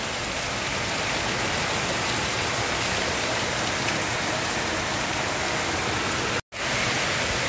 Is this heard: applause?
no